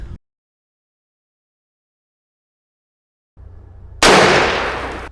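A single loud close rifle shot fired with Hornady ammunition while hunting cracks out after a low rumble, its echo trailing off slowly.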